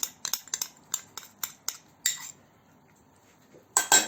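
Metal spoon scraping and tapping against a container while clearing out tomato paste in a home kitchen, a run of sharp clinks and scrapes, then a pause before one louder scrape at the end.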